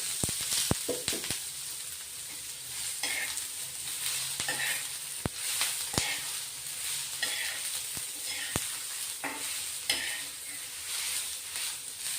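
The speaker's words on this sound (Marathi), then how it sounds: "आता आपण थोडं तेल टाकतोय. तेल टाकल्याने पटकन भाजले जातात कांदे." Sliced onions frying in oil for a chicken gravy masala, a steady close sizzle punctuated by repeated sharp clicks and scrapes of stirring.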